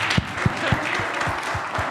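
At a railway technical conference, listeners clap in an even rhythm of sharp, evenly spaced claps, about eight in two seconds, over a faint room background.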